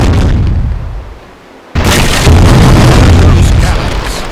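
In the video game East India Company, a heavy, loud boom of naval cannon fire in a ship battle rolls out, fades, then a second blast erupts and rumbles on continuously.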